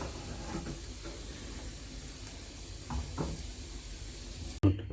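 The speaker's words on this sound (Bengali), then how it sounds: "দুধটাকে জাল দিয়ে এরকম ঘন করে নেব।" Milk simmering down in a pan for papaya payesh, a faint steady hiss of low boiling with a few soft knocks and a sharp clatter near the end.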